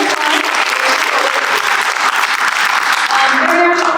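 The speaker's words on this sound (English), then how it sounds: "let's still give her a round of applause" Parents and staff at a kindergarten welcome night give a round of applause, a loud sustained wash of many hands clapping with some crowd murmur underneath.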